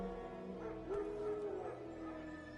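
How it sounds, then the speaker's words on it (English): Wild dogs bark and yip in The Witcher 3, a few calls rising over a steady game soundscape with low music, at moderate distance and fairly quiet. "No. Wild dogs. Yes. More dangerous than wolves."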